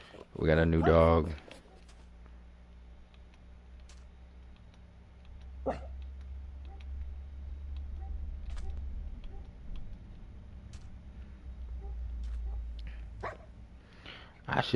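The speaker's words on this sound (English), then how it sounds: "You wanna bark too? Stop fucking barking." A dog barks several times in Minecraft, a loud cluster of harsh barks at the start and a few faint yips later, over steady low game hum with occasional clicks and someone talking.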